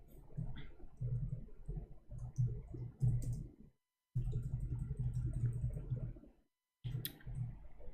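Someone types on a computer keyboard in quick, soft clicking bursts, with two brief pauses in between. The sound is quiet and close, and no one speaks.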